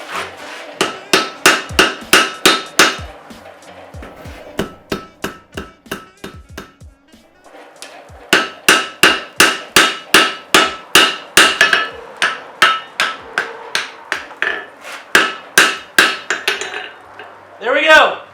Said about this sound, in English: We're getting ready to forge weld the high carbon steel bit onto the mild steel.